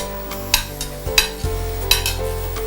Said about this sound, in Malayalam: പച്ചമുളകും ഇഞ്ചിയും വറുത്തത് എല്ലാം ഇങ്ങനെ ചേർക്കാം.